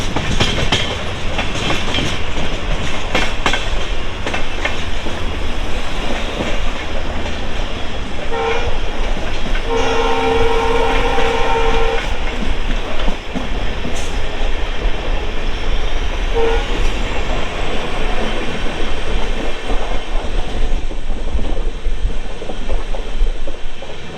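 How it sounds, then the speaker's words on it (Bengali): A Mumbai local train passes and crosses another train on the Pune to Mumbai line, a loud continuous rumble and wheel clatter with a sustained horn blast midway, no talk. "এই প্রথম মুম্বাই লোকাল ট্রেনের ক্রসিং দেখালাম"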